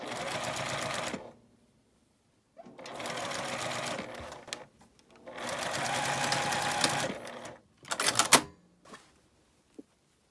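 A sewing machine stitches the side seams of an eco fur tote bag in three long, loud, steady whirring runs separated by pauses, then a short final burst and a few light handling clicks.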